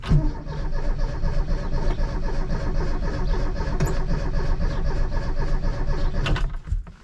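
A classic Mini Cooper John Cooper conversion engine on twin SU carburettors runs steadily at a slightly high idle, a loud, close, continuous mechanical drone that cuts off abruptly near the end.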